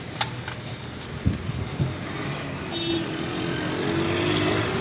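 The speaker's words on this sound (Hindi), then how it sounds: "दोस्तों अभी इतनी आवाज़ है, जब ये गाड़ी चल रही हो तो फिर तो बहुत ज़्यादा आवाज़ करता है ये बैरिंग।" A worn bearing in a Toyota car's AC compressor gives a steady mechanical whir and hum, running continuously at close range, with a few sharp knocks and clicks early on and a faint whine rising later.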